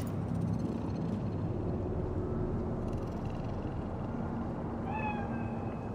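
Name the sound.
cat meowing in the video game Cyberpunk 2077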